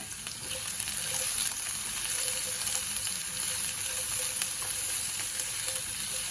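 Spicy lamb laid into a hot pan sizzles and spits in a constant, close hiss with small crackles throughout, with no voices over it.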